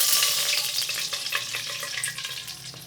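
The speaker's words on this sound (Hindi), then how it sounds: "एक कढ़ाई में हमने घी गरम कर लिया है और अब हम इसमें डालेंगे पानी।" Water poured into hot ghee in a kadai erupts into a loud, crackling sizzle that gradually settles into steady frying.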